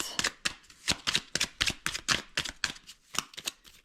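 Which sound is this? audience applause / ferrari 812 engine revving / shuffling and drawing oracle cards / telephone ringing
shuffling and drawing oracle cards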